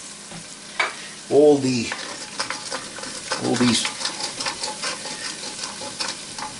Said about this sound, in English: Because that's going to help deglaze the pan.